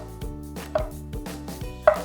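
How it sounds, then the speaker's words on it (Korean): A knife slices shiitake mushrooms on a cutting board in a kitchen, about eight crisp, evenly spaced chops close to the listener, with no talk. "기둥을 제거해 주시고요. 편으로 썰어 주십니다."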